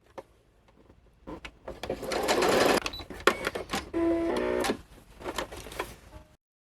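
A sewing machine stitches jacket fabric for a cosplay duster, running straight over pins in two loud bursts of rapid mechanical whirring, with clicks and handling noises around them and no talking.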